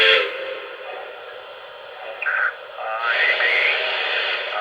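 A Lionel Polar Express toy steam train's electronic whistle blows, a tinny, sustained multi-tone toot that fades, then sounds again with a brief chirp between.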